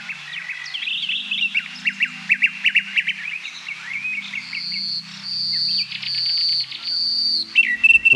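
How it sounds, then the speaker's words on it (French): A male common nightingale sings in a Baie de Somme setting, a close, loud run of varied chirps, trills and sustained whistled notes over about eight seconds, with a faint low hum underneath. "Lui, c'est le rossignol philomèle, celui-là."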